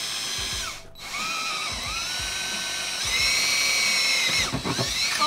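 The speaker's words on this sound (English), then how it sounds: "So I'm using the 1/8 drill bit, and I'm going to make a pilot hole" A power drill with a 1/8 bit bores a pilot hole in a rusty Mazda Miata chassis, a steady high whine that dips briefly, then resumes louder and strained as the bit bites through metal.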